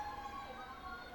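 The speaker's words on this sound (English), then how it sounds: "more sirens." Emergency vehicle sirens wail outside, a steady, fairly faint tone carrying on without a break, with no voices over it.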